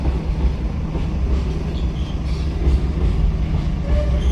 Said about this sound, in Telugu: ట్రైన్ చూసారా రౌండ్ తిరుగుతుంది